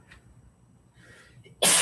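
A sharp, sudden sneeze bursts out at the very end, loud and close after near-quiet, during a baseball game broadcast.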